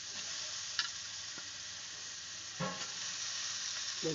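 Tempering for a vegetable dish fries in a pan, a soft continuous sizzle with a few light utensil taps and a short burst of stirring.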